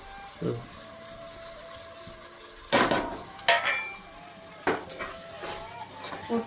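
A spoon clinks against a clay pot several times while adding biryani masala, sharp separate knocks over a quiet kitchen background with some talking.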